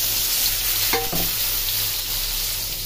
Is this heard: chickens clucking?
no